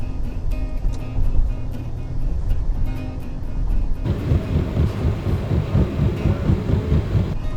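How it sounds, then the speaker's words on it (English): Road traffic seen from a bridge rumbles steadily below, a continuous low roar of passing vehicles that grows denser and louder partway through, with no talking. "Traffic is beautiful."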